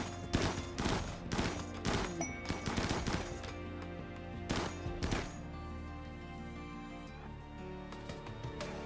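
Rapid bursts of gunfire in RimWorld, a colony-survival video game, cracking out in quick irregular volleys during the first five seconds, then tapering off to a quieter steady background of game sounds.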